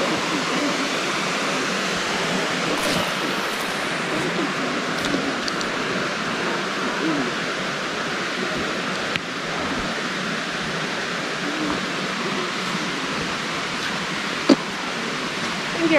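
A waterfall pours in a steady, dense broadband roar that fills the whole clip at constant loudness, close and continuous, with no clear voices above it.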